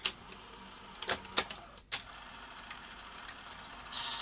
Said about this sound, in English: Now, if I try to eject, oh look, give it a push. Okay, so there's a lack of torque in the clutch mechanism.